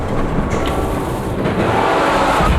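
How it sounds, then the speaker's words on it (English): A train derails and wrecks in a serious accident during a dramatic movie trailer, a dense, loud, continuous rumble and roar of rail cars that holds steady throughout with no voices. "Your train derailed."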